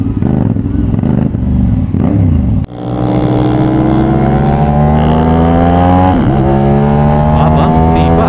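A CFMOTO 450SR-S sport bike winding up loud and close, with one short dip at a gear change before the engine whine climbs steadily again, and a voice talking over it.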